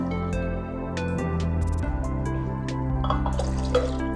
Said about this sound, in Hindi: थोड़ा सा फ्रोज़न फॉर्म में मैं डालूँगी लेमनेड